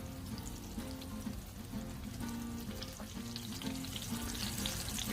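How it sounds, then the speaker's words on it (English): Small turkey pieces, cut away from the main bird, fry on a Blackstone griddle with a steady, close crackling sizzle that holds for several seconds, with no talking. "Couple little pieces there. That's separated from the turkey. Okay, We'll let these fry up."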